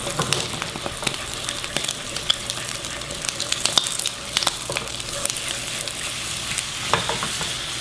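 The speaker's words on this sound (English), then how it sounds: "And now we scramble." Eggs and ham scrambled in a frying pan, with a steady sizzle under repeated scraping and stirring strokes, close and moderately loud, no talking.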